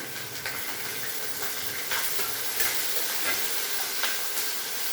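Onions, curry leaves and green chillies sizzling in a hot tempering oil, a dense, steady hiss close by with faint stirring scrapes throughout.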